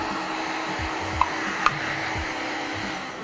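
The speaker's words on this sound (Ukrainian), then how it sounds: "завдяки гарячому фену, який нагрівається, можна обдути цю деталь" A steady, continuous blowing whoosh from a heat gun running close by over a 3D-printed part to clear stringing, with two tiny clicks partway through.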